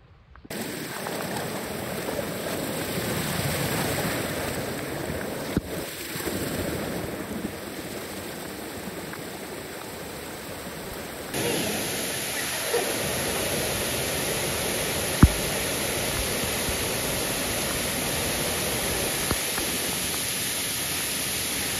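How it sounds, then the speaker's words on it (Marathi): A waterfall on the trail up to the Kondhane Buddhist caves, a steady broadband rush of falling water heard close and loud throughout, with a slight shift in tone partway through. "केवला जाताना मध्येच एक वॉटरफॉल लागतो"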